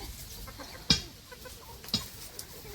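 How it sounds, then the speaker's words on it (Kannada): Two short, sharp clucks from egg-laying hens foraging around a rural farmyard, about a second apart over a quiet background. "ಫಸ್ಟು ಈ ಕೋಳಿ ಎಲ್ಲ ಸ್ವಲ್ಪ ಮೊಟ್ಟೆ ಇಡೋದಕ್ಕೆ ಬಂದಿದ್ದಾವೆ ಕೋಳಿಗಳು."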